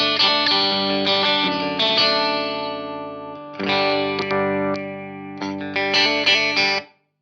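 Electric guitar played through a Mesa/Boogie Studio Preamp on a clean, bright setting, strummed chords and picked notes ringing loud and close with a shimmering effect, pausing briefly midway before a final burst that cuts off abruptly.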